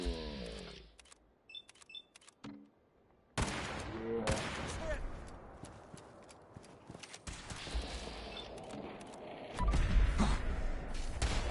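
Gunfire in the Fallout 4 video game comes as sharp, loud bursts and repeated rapid shots mixed with other game effects and clattering, punctuated by quieter gaps, with a brief shout near the start.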